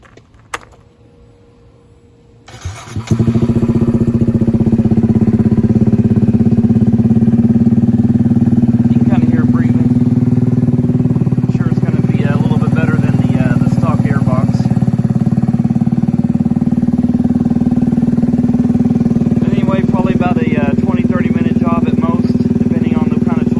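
Kawasaki Z125 motorcycle with a cold air intake starts after a brief quiet moment, then idles with a steady close rumble for about twenty seconds while someone talks over it.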